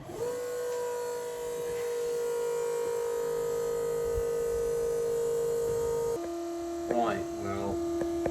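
A small electric water pump hooked straight to a battery runs with a steady droning hum while filling a 4x4 camper's water tank, its pitch dropping midway, with a brief spoken voice near the end.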